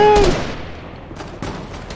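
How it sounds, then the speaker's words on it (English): Gunfire in a video game: a dense burst of shots at the start, then fainter scattered volleys about a second later, all fairly close and loud. "You got three guys shooting."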